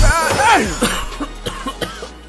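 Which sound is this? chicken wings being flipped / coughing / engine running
coughing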